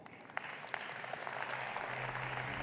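An audience applauds a Saudi Arabian Minister of Tourism as he is welcomed on stage, a broad, sustained wash of clapping that builds slightly and holds steady.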